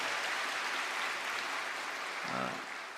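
A church congregation claps steadily in sustained applause that swells slightly and then eases off, with a brief low murmur near the end.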